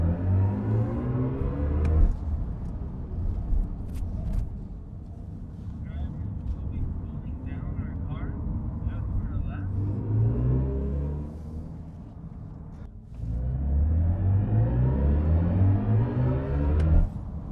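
An all-wheel-drive BMW i5 M60 electric sedan of nearly 600 horsepower accelerates on a track, with a rising electric whine and road rumble in two pulls and wind noise between, while a person talks over it.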